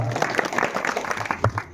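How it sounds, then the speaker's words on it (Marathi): A crowd claps steadily in dense applause at a Marathi Bhagwat katha gathering honoring the maharajs, a brief burst with faint voices mixed in, prompted by calls for loud applause. "जोरदार टाळ्या वाजवा"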